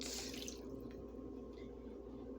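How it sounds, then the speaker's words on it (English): Half a cup of water poured into a small crock pot set on high: a short splashing pour at the start, then quiet faint trickling and drips. "I have a 1/2 cup of water that I'm going to split between the 2 of the crock pots"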